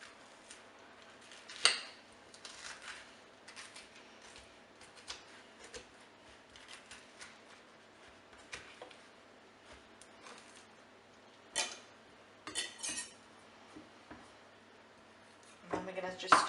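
A knife works through butternut squash on a board, making quiet, scattered taps and scrapes with a few sharper knocks, faint against a quiet room.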